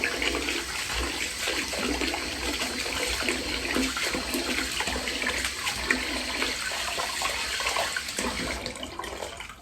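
A tap runs steadily into a sink while hands are washed, giving a continuous splashing stream at moderate volume throughout, with no talk.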